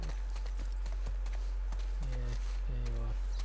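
Horse hooves clip-clopping in The Last of Us Part II, a steady rhythmic run of hoofbeats under a low constant hum, with short tonal voice-like calls over it and no talking.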